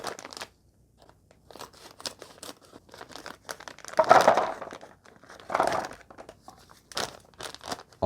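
Samyang Buldak Topokki packaging being opened: close crinkling and crunching plastic with sharp tearing bursts, in irregular handling noises over several seconds, with no talking.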